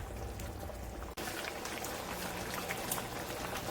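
Chicken stew simmering in a pot, a steady close bubbling and popping texture like light rain, continuous throughout with a brief cut near the start and no talking.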